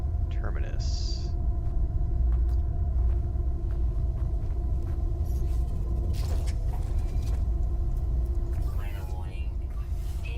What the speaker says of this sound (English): Oh, we got a storm coming in.